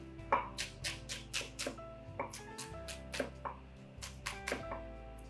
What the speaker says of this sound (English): just a rough chop with your onion